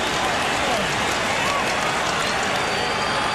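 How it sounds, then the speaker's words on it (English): Basketball arena crowd during a 2000 NBA Finals game between the Lakers and Pacers, a dense, steady roar of many voices chanting for defense, filling the space continuously with no breaks. "you can hear the crowd here, Bob, just chanting for some defense"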